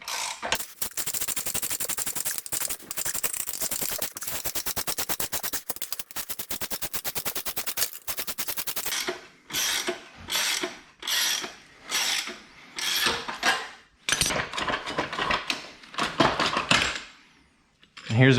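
Bushing press tool forcing a Powerflex polyurethane subframe bushing into a BMW E39 M5 Touring subframe, first a long run of fast, dense ratcheting clicks, then a series of separate, spaced-out bursts of clicking.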